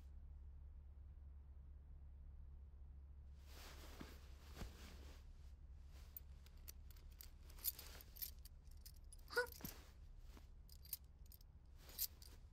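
Metal keys jangle in a series of small bright clinks and rattles, intermittent and close, over a steady low hum with no talk.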